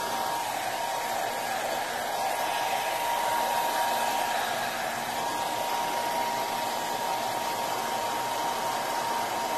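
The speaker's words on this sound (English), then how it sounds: "then I'm just going to take this and blow dry it around and see what happens" A hair dryer blows steadily and loudly over wet alcohol ink, a continuous close rushing whir with no pauses.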